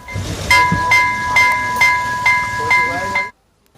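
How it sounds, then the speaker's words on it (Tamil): Railway locomotive engine passing a level crossing, loud and close, with a steady whistling tone, rhythmic pulsing bursts and rumbling, ending abruptly after about three seconds. "அடுத்த நாள் பயணிக்க உள்ள ரயில் பெட்டிகளை இழுத்து செல்வதற்கான ரயில் எஞ்சினை இவ்வாறு சென்றது."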